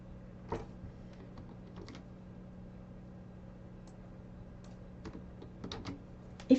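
Typing on a computer keyboard: scattered, fairly quiet clicks and taps at an irregular pace over a steady low hum, ending in a sharper, louder keystroke.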